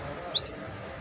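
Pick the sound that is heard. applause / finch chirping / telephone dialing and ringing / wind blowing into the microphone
finch chirping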